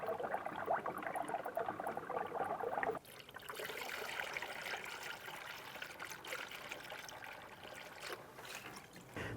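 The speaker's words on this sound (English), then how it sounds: "We're going to continue to fill up the expansion tank until this is at max." Coolant is poured into the expansion tank of a 2005-2010 Chrysler 300, a quiet trickling and gurgling that changes character partway through and continues faintly, with no talk.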